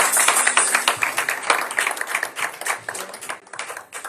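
Church congregation at a Sunday service applauding to acclaim the Lord, dense steady clapping that holds throughout with a bright, busy texture and no clear speech.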